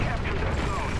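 T-34 tank cannon firing in the War Thunder video game, a dense, loud blast of gunfire-like rumble filling the moment, with a voice talking over it.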